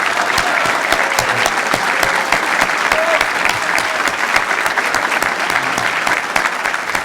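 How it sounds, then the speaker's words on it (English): A school recognition assembly audience gives a big round of applause for award winners, a loud, steady crowd of clapping hands lasting several seconds without a break. "if you could join me in a big round of applause in applauding today's winners"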